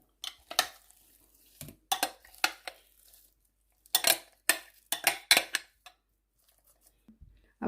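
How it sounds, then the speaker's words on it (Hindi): Chicken mince for seekh kebabs is scraped from a pan into a large dish, with irregular bursts of spoon scrapes and metallic clinks against the cookware, close and with short pauses between them. No talking. "अब मैं इसको एक बड़ी डिश में निकाल लूँगी।"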